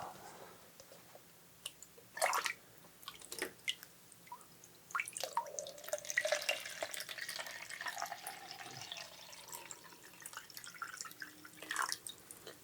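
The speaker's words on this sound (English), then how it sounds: "just spend the next minute or two listening to these relaxing water sounds" Water drips and splashes irregularly at close range, single drops mixed with brief trickling runs against a quiet background.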